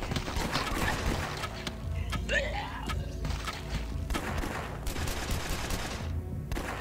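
In the video game Last Stand 2, rapid gunfire shoots zombies: dense bursts of shots and thuds run steadily throughout, with a few brief pauses and some game effects layered over the shooting.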